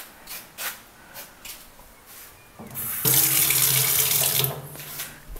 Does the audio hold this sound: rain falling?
no